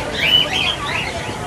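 Caged birds, sun conures among them, chirp and whistle at a local bird market in Chandannagar, several high calls overlapping close by over a murmur of crowd noise.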